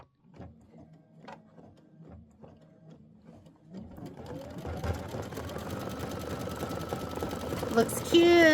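Embroidery sewing machine stitching a quilt block, starting with light intermittent clicks and stitching bursts, then building into a steady, busier mechanical run.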